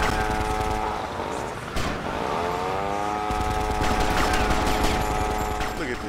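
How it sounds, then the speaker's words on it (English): Rapid bursts of gunfire ring out in Grand Theft Auto Vice City, crackling over the revving whine of a car engine amid chaotic street action. "Police, you don't hear me getting shot at?"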